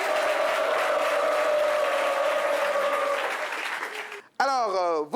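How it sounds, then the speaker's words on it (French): Loud, sustained applause from a studio audience welcoming guests on a debate show, a dense roar of clapping with a host's voice over it that thins out before a clear voice speaks alone at the end. "On les applaudit très fort."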